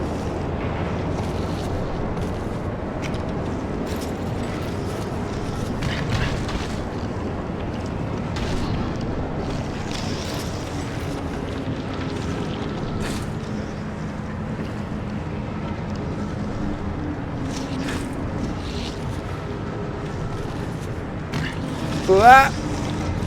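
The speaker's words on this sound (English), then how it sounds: "This wind's a bit loud, don't you think?" Loud, steady wind roars through a high place in the video game White Knuckle, a broad rushing noise that holds constant throughout, with a brief sharper gust near the very end.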